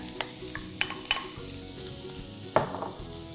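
Diced onions sizzle steadily in a hot pot, with occasional clinks and scraping from stirring; no voices.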